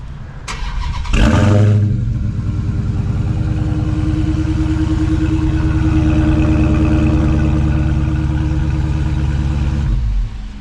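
A Dodge Charger SRT Hellcat Widebody fired by remote start: a short starter whir, then a loud roaring catch that settles into a deep, rumbling idle which runs steadily before cutting off near the end.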